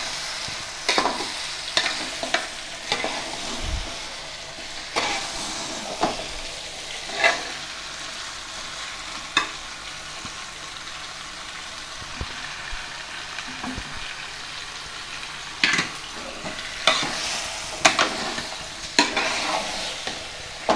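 Chicken pieces are stirred into a frying masala of onions and tomatoes for a Rayalaseema chicken dum biryani, with a continuous sizzle and repeated scraping strokes of a spatula against the pot at an uneven rhythm.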